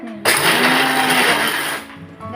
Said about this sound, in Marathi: गुळ गूळ आणि शेंगदाणे तर मिक्सरला लावून घ्यायचंय